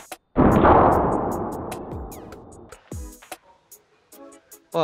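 A single sharp air rifle shot during a shooting test, a loud crack with a ringing tail that fades over about two seconds, followed by faint clicks and small handling knocks.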